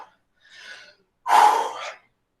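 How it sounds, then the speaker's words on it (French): Heavy breathing during a live home workout: a short breathy inhale followed by a louder, forceful exhale, close and alone with no talk. "Je prends le temps de respirer."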